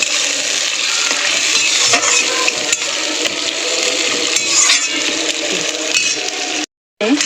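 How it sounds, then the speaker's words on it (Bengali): Onions fry with prawn-head oil in a pan, a dense, steady sizzle with faint stirring scrapes running close and loud throughout, broken by a brief dropout near the end. "মাছের তেলটা আর পেঁয়াজটা ভালো করে ভাজা হয়ে গেছে"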